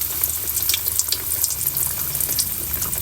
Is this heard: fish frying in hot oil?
yes